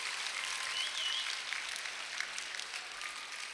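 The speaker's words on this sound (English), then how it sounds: "So if we could just get a round of applause for the dancers." A school audience gives a round of applause for the dancers after a performance, a steady wash of many hands clapping at moderate distance, with no talking over it.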